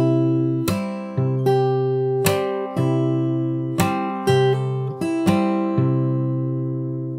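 Fingerstyle acoustic guitar works slowly through a passage of a song, plucked chords struck at a steady unhurried pace and each left to ring, close and clear with no voices.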